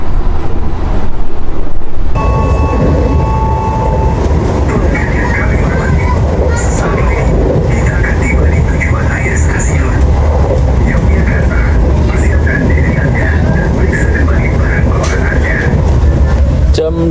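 Passenger train of the KLB Tambahan service pulling into Tugu Yogyakarta station at night, with loud rumbling wheels and rail noise, clanking, and a brief high squeal early on as it slows, heard from on board with people talking over it.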